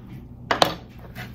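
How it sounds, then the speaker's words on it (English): A pan set down on a stove at home, two quick metallic clanks close together followed by a fainter clatter, close and moderately loud. "I'll just put the pan on the stove"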